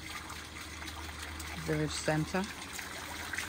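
Fresh water trickles and flows steadily in a village centre along the N18 road in Portugal's Alentejo countryside, a continuous close splashing stream with a voice talking briefly over it.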